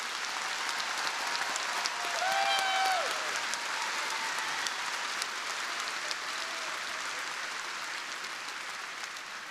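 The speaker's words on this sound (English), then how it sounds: "please give a round of applause to the doctoral degree recipients" Sustained applause from a large audience at a university spring commencement ceremony, steady clapping filling the hall for the whole stretch with a brief swell near the start.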